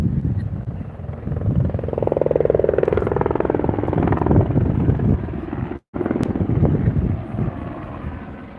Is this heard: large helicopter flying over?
yes